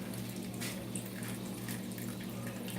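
Water poured out of a cooking pot while squirrel is being cooked, a steady, soft splashing rush that runs the whole time at moderate, close range with no talk.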